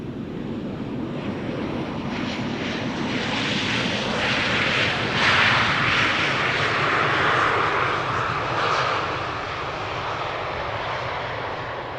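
Airliner engines roar and rush at Amsterdam Schiphol Airport as planes arrive, a broad steady noise that swells slightly toward the middle and fades a little. Heard from a distance outdoors with wind, and no voices.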